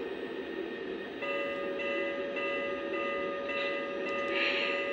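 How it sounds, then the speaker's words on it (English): A steady electronic bell tone from a Lionel Vision Line N&W Class A No. 1218 model locomotive rings continuously over a constant hum, with a brighter metallic ringing swelling near the end. "Now let's hear the different bells."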